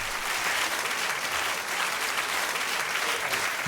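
A theatre audience applauds two performers at a comedy show, a dense, steady wash of clapping that fills the whole stretch without a break.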